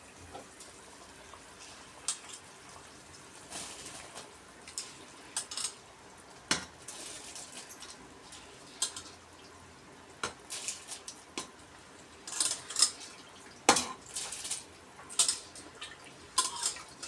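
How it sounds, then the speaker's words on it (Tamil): Soaked, washed rice poured into a pot of boiling mushroom biryani masala, giving scattered soft clatters, scrapes and stirring taps over a low bubbling simmer, with a busier cluster of sharp clinks near the end. "இப்போ நம்ம கொதிச்சுட்டு இருக்க இந்த பிரியாணி மசாலாவில் சேர்த்துருவோம்."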